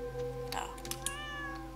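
A cat meows inside the farming video game Stardew Valley, a short rising game-sound call set over steady background music, with a second drawn-out meow trailing off near the end.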